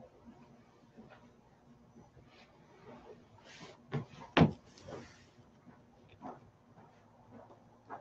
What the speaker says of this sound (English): I need a WD-40 that door.